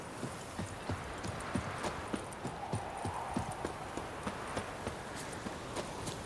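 A horse in The Witcher 3 gallops along with crisp, evenly spaced hoofbeats, heard as a steady clip-clop rhythm over a quiet ambient background.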